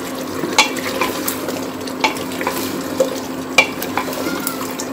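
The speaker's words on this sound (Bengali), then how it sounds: "আলু পটল সহ মাংসগুলোকে আমি 2 মিনিট কষিয়ে নিব" Beef with potatoes and pointed gourd sautéing in a pot of thickened gravy, a steady low sizzle broken by a few sharp scraping stirs of a spoon against the pan, close and moderately loud.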